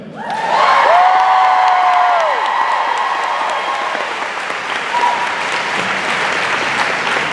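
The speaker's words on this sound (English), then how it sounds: "Can we just get a nice round of applause for the band?" A large convention-hall audience applauds the band at a fan panel, loud sustained clapping with cheers and whoops rising quickly and holding steady throughout.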